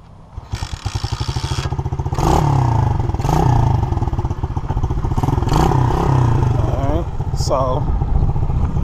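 An SSR Motorsport 110cc dirt bike engine runs loud and close, holding a buzzing, throaty drone with brief rises in revs, while voices talk over it.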